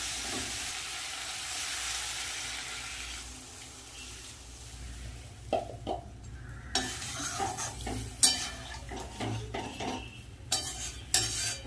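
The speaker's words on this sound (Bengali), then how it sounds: "মশলা ভালো করে কষিয়ে দিয়েছি এবার জল দিয়ে দেবো" Water poured over spices fried for a potato, green banana, eggplant and lentil-dumpling curry, a hiss fading into quieter bubbling, then a spoon scraping and stirring the pan in sharp irregular knocks, close and alone.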